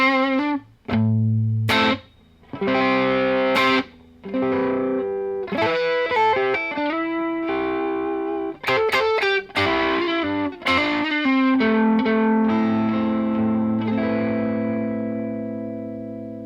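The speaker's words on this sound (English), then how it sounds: "here's the overdrive from the Chroma console" An electric guitar played through the overdrive of a Chroma Console multi-effects pedal rings out in distorted chords and single notes, with gaps between phrases and a long sustained final chord fading out.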